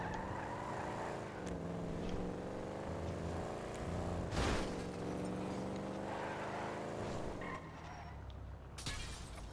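An in-game car engine drones steadily at close range, its pitch rising and falling with shifts and acceleration, with a couple of sharp bursts of noise along the way.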